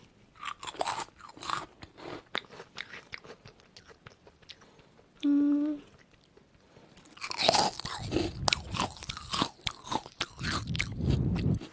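Shrimp chip snack with red shrimp powder being bitten and chewed up close, loud crisp crunches in rapid irregular bursts, with a brief tonal sound midway and no talking.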